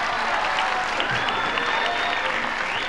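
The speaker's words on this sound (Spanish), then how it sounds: "Un aplauso para Majiscatzin." Audience applause at a live Saturday norteño show in Ciudad Mante, 1991, a steady dense clapping wash filling the whole stretch at close range.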